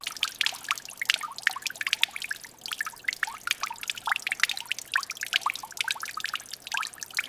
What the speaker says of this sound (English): We are seeing significant water drainage from the central structure.